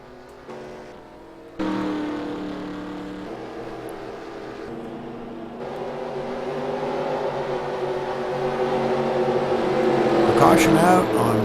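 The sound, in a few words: race cars at Talladega during pit stops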